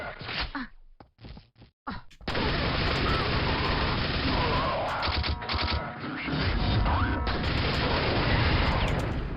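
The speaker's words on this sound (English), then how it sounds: "I have dual nail guns." Dual nail guns firing in the video game Quake: after a few scattered sharp hits, a continuous dense rattle of rapid firing runs on loudly for several seconds amid crashing impacts, with no talk.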